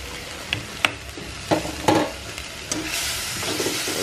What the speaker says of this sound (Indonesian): ini proses menggodok kerupuk